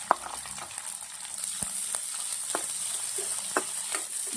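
Onion and capsicum hit hot oil in a pan already holding reddened garlic cloves, setting off a steady close sizzle and fry hiss, with a few sharp stirring clicks and scrapes scattered throughout.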